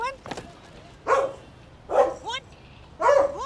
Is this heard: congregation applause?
no